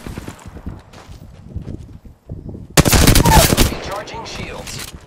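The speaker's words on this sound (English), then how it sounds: "I am taking fire, friends." Rapid automatic gunfire in the Apex Legends video game, at first softer scattered shots, then a loud dense burst of fire close by, with game sound effects and a voice speaking over it.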